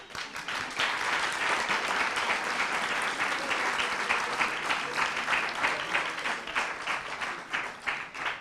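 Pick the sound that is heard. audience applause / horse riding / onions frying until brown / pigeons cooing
audience applause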